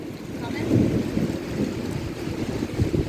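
An arriving derecho storm brings wind and rain: gusts buffet the microphone with a constant low roar that swells and eases.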